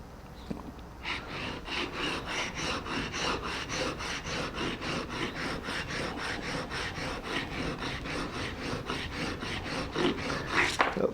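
Steady rhythmic rasping of a Japanese chisel's back being ground flat on an abrasive, even back-and-forth strokes repeating close up with no talk.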